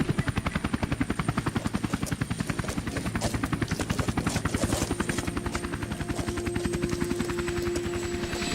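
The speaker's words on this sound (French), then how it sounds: "J'entends un hélicoptère au loin." A helicopter's steady rotor chop pulses rapidly and continuously, growing slightly louder as it draws nearer over an outdoor scene, with a faint high whine riding above the thumping blades.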